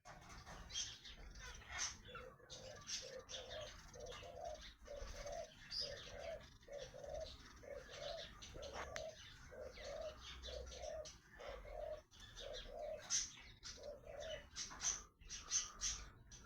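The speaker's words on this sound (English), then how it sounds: "What's that bird up there? Oh, it's a magpie." A magpie calls outdoors in a town setting, a steady series of rhythmic, repeated calls with other bird chirps around it at moderate distance, no talking.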